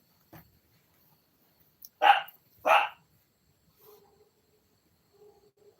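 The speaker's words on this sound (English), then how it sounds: "It's just the dogs down the hill, Squirt." Dogs bark down a hill at a distance, two or three clear barks after a faint first one, against a quiet background.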